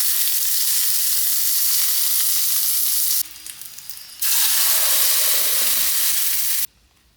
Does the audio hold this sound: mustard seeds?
yes